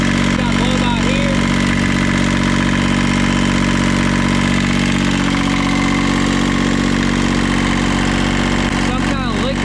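A worn-out tractor engine idles steadily with heavy blow-by, a loud, continuous rumble close by that holds an even pace throughout, with faint voices briefly audible near the start and end.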